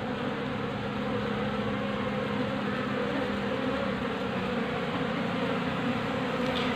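A swarm of honey bees, drones among them, hums steadily around a hive box used for honey farming, a loud, unbroken buzz heard up close with no talk.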